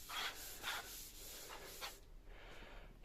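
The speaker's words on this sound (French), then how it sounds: "en attendant de la ponceuse orbitale, on le fait à la main" Faint rhythmic rubbing strokes of hand sanding BMW E34 525 tds bodywork, about five passes back and forth on a hard surface, quiet and close.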